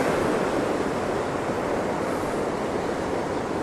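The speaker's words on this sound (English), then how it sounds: "Yeah, a little windy out today." Ocean surf at a cove where surfers gather on a windy day, a steady broad roar of waves and gusting wind, loud and continuous with no distinct breaks.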